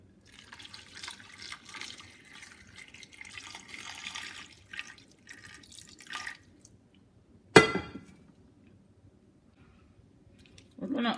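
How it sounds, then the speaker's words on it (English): Water pours steadily into a cooking pot holding cow leg, pepper and onion for vegetable soup, a soft continuous rush lasting several seconds before a sharp clatter and quiet. "I'm going to add water."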